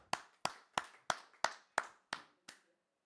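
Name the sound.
audience applause for a performer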